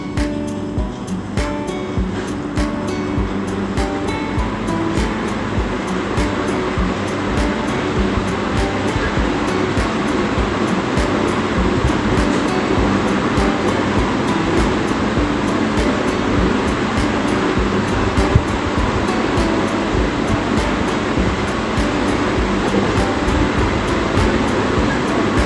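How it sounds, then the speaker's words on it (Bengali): Pabda fish curry with pointed gourd boils in a covered pot, giving a steady, dense hiss of bubbling with scattered faint ticks and pops throughout. "মাছটা সুন্দর করে ফুটে গিয়েছে।"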